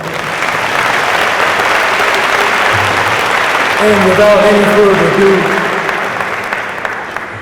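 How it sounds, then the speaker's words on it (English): An audience at a university homecoming convocation applauds for Dr. Beverly Edmonds, a loud, sustained wash of clapping from a large crowd, with a voice speaking over it briefly. "Please give her a round of applause"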